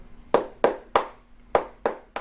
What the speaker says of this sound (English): you have to learn how to clap. Whatever clap your group teaches you, whether it's palmas de bimba